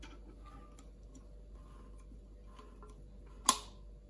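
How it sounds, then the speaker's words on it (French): Manual can opener working around a tin can: faint, sparse ticking clicks over a quiet background, ending in one sharper, louder click. "si j'utilise mon ouvre-boîte, je suis certaine de ne pas couper ma spatule. Donc, on va peut-être entendre le clic"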